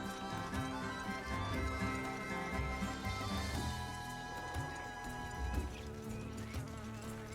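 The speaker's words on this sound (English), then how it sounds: "I hear the bees." Insect-like buzzing of bees on a farm in the Monster Hunter Freedom video game, a steady drone under layered game music and ambience.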